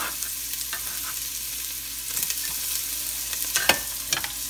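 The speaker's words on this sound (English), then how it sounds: "Next, my oil is heated and I'll have to throw the onions." Onions tossed into heated oil for cream of broccoli soup, giving a steady, fairly close sizzle and crackle with a few sharper spatters near the end, no voices.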